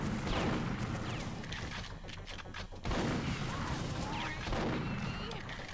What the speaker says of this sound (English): Who's still shooting?